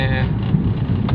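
Strong wind gusting on an open road just past Maliya railway crossing, heard as a steady loud rushing buffet on the microphone that stays constant throughout, with brief speech at the very start.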